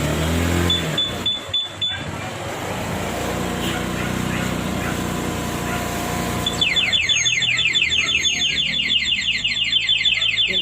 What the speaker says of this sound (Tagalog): nagka-alarm yung ating isang motor